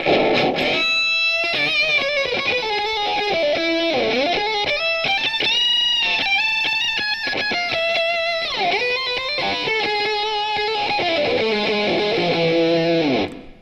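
Electric guitar through a ratty octave fuzz pedal, an Octavia, bright and trashy with a high harmonic riding above the notes, playing a continuous lead line alone.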